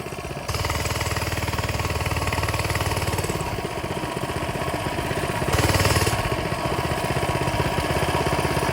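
A Coleman Mini Bike's small engine chugs steadily while being ridden, a close, continuous putter with a brief surge in the middle, no talking.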